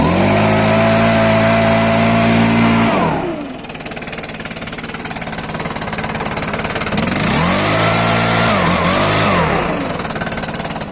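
A Stihl two-stroke engine from an FS 90 brushcutter or MS 362 chainsaw screams at high revs, drops to idle, then revs up in a second burst before settling, loud and close.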